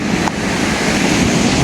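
Rough Konkan sea surf in the monsoon rain gives a steady, loud, dense roar of waves and wind with no break, close to the microphone at a fishing shore.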